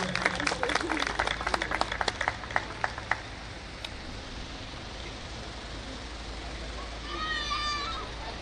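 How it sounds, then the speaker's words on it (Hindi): Applause at a Hindi poetry gathering in Haldwani, with a burst of clapping in the first few seconds that fades into a steady hiss, then a voice briefly at the end. "वे जोरदार तालियां हो जाएं"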